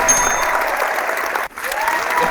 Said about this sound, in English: we gotta get claps for